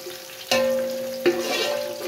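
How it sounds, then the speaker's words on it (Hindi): Sliced onion and garlic hit hot oil with a sharp burst of sizzling, followed by a second splash and a steady crackling fry, heard alone without talk. "ऑयल गर्म हो चुका है तो अब डालेंगे प्याज और साथ ही मैंने लहसुन भी डाल दिया है काट के"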